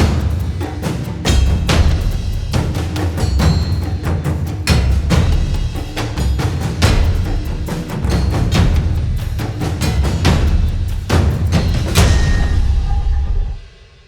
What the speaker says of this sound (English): So this is the sound of the complete cinematic percussion performance we just recorded.